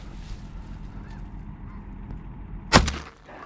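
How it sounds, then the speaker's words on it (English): During a solo duck hunt, a single sharp shotgun blast cracks out over a steady outdoor background murmur, then decays quickly. "It took 4 shots for this dude, bro."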